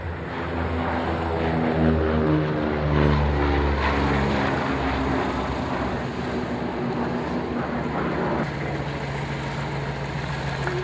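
A Swordfish propeller aircraft departs, its piston engine droning loud and steady with a strong pulsing hum, the pitch shifting as it moves off.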